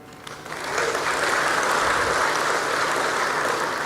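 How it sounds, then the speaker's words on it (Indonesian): Dense, steady audience applause at a speech by Indonesia's president, swelling in the first second and then holding as a continuous, fairly loud wash of clapping with no talking over it. "Ini yang harus kita tepuk tangani."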